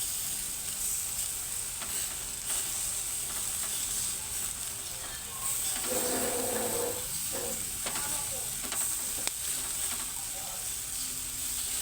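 Barbecue chicken and pork cooking on a grill, giving a steady close sizzle and hiss with faint scraping and stirring noises. A voice talks softly in the background at times.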